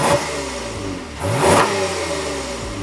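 Lexus ES350 car engine while driving, a loud steady mid-range hum with rising and falling pitch sweeps as the engine revs and shifts, plus a brief louder surge of road or wind noise, with no voices.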